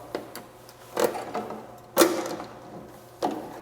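Screws being driven into the front panel of a pump unit during a pump replacement, heard as a few separate sharp ratcheting or clicking bursts spaced about a second apart, fairly close and otherwise quiet.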